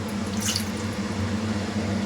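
Biryani marinade water pours into a cooking pot set up for dum, a steady close splashing and trickling stream running throughout without talk.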